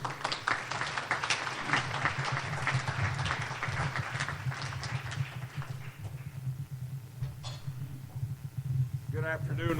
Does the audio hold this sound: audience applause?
yes